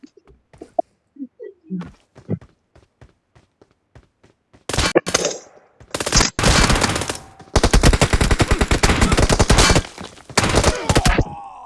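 Rapid bursts of video game gunfire, loud and dense, some pistol shots among them, starting after several seconds of sparse thumps and knocks and running in long clustered volleys to the end.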